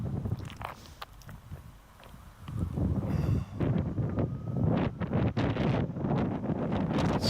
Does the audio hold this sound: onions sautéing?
no